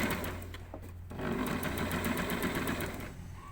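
A sewing machine stitches a camisole seam with a steady fast mechanical whir and buzzing needle rhythm, briefly pausing for a readjustment before running on continuously, close to the microphone with no talk.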